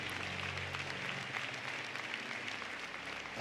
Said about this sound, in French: Par l'Éternel, un bel applaudissement.